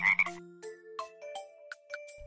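Cartoon frog croaks in the Kiddopia children's game, a string of short, bouncy croaks with playful electronic tones stepping along underneath, clear and close with no talk.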